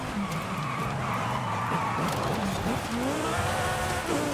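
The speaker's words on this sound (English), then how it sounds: "Just listen to the car." A Lamborghini tuned for rallying in the video game Forza Horizon 5 roars steadily with rising and falling revs, tires squealing at moments, loud and continuous with no talking.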